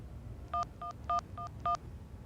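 A telephone is dialed with five distinct touch-tone beeps in an uneven rhythm, clear and close over a low background hum.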